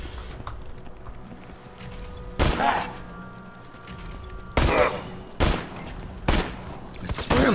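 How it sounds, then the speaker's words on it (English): Gunfire from the video game Borderlands 2, heard as a handful of loud, punchy bursts spaced a second or two apart over a low game backdrop. "I swear I'm shooting this guy in the head."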